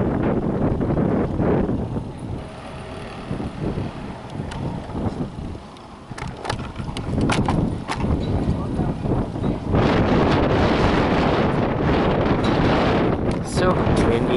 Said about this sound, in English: So windy again.